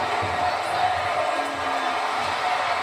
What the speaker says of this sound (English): Crowd yelling they want tables here tonight in Baton Rouge, Louisiana.